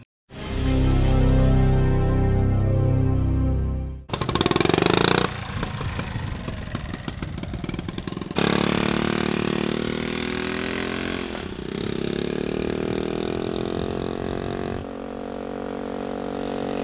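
A small Honda Trail 70 motorcycle engine runs nearby, a buzzing drone that shifts through several segments, with revving and idling changes and broadband wind-like noise, no voices.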